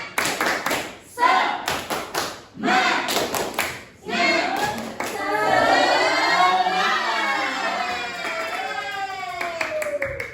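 A classroom performs a rhythmic clapping cheer, with sharp close claps in a quick pattern followed by children's voices chanting together loudly over the continuing claps.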